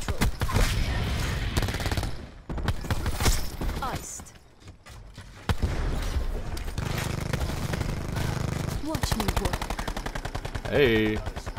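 Pistol gunfire in Call of Duty Black Ops 4, loud rapid shots in bursts mixed with other game effects, with brief quieter gaps.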